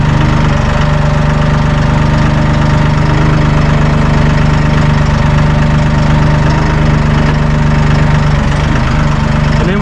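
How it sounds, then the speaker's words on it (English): A Massey tractor engine runs close by, a loud, steady diesel rumble with a constant low throb and no breaks, with no voices over it. "We're going to fire this Massey up"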